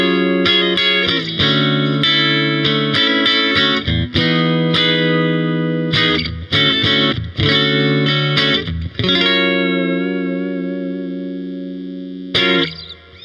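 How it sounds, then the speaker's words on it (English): Fender Vintera III Jazzmaster played clean on the bridge pickup through a Princeton Reverb amp with a touch of reverb: bright, loud chords and single notes in rhythmic bursts, the last one ringing out and slowly fading before a final strum. "this is our clean tone. We are on our bridge pickup with just the tiniest bit of reverb on the amp"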